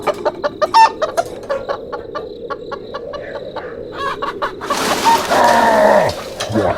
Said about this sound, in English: Oh no. Chickens.